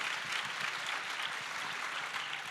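An audience applauds at an interactive session with President Kagame and Pastor Rick Warren, a steady wash of clapping from a crowded hall, moderately loud and sustained throughout.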